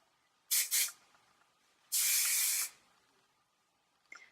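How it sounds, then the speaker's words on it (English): Hairspray hisses out in two quick short bursts, then one longer steady spray, with quiet gaps between. "I just kind of spray it like towards the end and fluff it up as I go"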